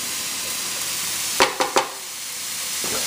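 Vegetables sizzling in a hot pan for Chinese rice, a constant loud hiss broken by three quick scraping pushes as they are moved aside.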